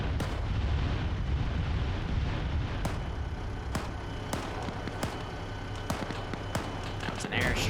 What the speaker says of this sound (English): That was an airstrike.